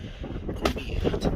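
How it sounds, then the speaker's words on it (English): Strong outdoor wind gusting across the microphone beside a 12-valve Cummins-swapped Ford F-150, a steady low roar with louder buffeting bursts, no speech. "Extremely windy out here, so we hurry this right up"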